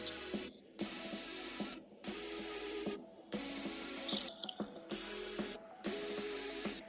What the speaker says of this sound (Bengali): এটা গরম হয়ে গেছে, আমি এখন বড়াগুলো ভেজে নেব।